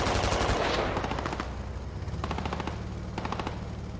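A BMP armored vehicle firing in the game Squad: a fast burst of heavy rapid shots, then rhythmic volleys of gunfire repeating over a rumbling battlefield background.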